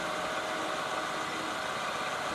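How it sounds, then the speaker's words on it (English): Steady low drone of a rice transplanter engine running at its lowest speed in a field, even and continuous with a faint rattling texture and no voices. "Start the engine at the lowest speed"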